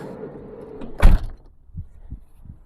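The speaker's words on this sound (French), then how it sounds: "Il va falloir fermer la porte" The sliding door of a Volkswagen California camper van rolls briefly and shuts with one sharp thud, followed by a few soft knocks and rattles afterward.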